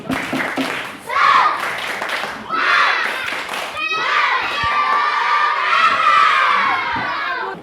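Indonesian classroom children perform the rhythmic "tepuk semangat" clapping chant, with loud group voices and claps coming in energetic bursts that grow into sustained shouting and cheering near the end.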